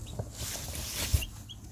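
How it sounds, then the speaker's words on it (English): Tiny newly hatched baby chicks peeping, a few soft high chirps and faint clucking calls close by over a hissy background, with no talking. "for tiny baby chicks,"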